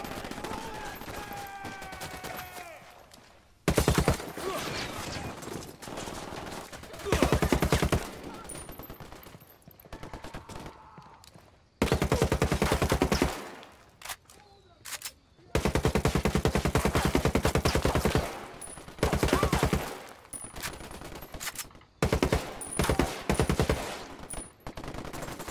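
Gunfire in the video game Ghost Recon Wildlands during an ambush, loud sustained bursts of automatic fire repeating in long stretches with short pauses between volleys, near and dense.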